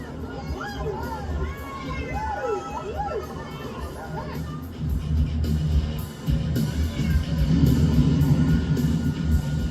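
A crowd cheers and shouts at a monster truck show as the jet-powered truck Shockwave performs. The dense, continuous roar swells louder in the second half, and an announcer talks over it.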